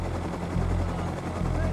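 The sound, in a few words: helicopter flying in the video game Rust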